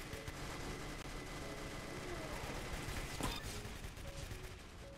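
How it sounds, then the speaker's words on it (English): Dense gunfire from a firework launcher in the video game Arsenal crackles steadily with a sharp burst near the end, a busy stream of launches and pops throughout. "Firework launcher."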